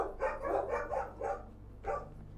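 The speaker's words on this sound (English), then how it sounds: "Dogs are excited." Excited dogs bark in a quick run of five or six sharp barks, then one more after a short pause, fairly close and loud over a low background hum.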